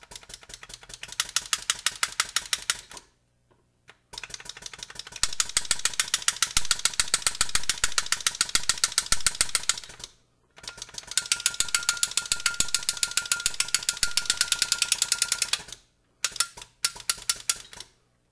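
Steel stamping tool rapidly hammering a metal surface to texture it, a fast continuous machine-gun rattle of metallic taps in long bursts separated by short pauses, loud and close with no voices.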